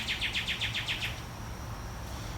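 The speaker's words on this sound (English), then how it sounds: "I'm competing with the birds today, at least just one of them. Really going crazy out there." A single bird sings outdoors in a quick run of about eight bright chirps during the first second, then goes quiet over a low steady background hum.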